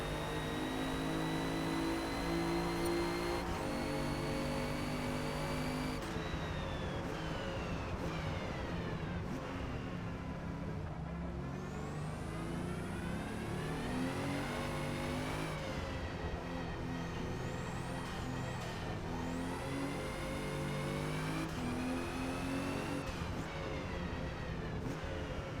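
A 2017 Alfa Romeo Giulia engine drones continuously around the Nurburgring in Forza Motorsport, loud and constant with repeated pitch sweeps as the revs climb and drop through gear changes.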